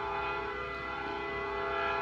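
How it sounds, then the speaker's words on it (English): A train passes close by with a loud, steady, droning horn over a continuous heavy rumble, unbroken for the full two seconds. "There's the train."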